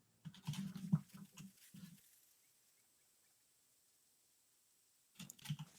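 Computer keyboard typing in quick, light clusters of taps at close range, a burst in the first two seconds, then quiet, then another short burst near the end; no talking.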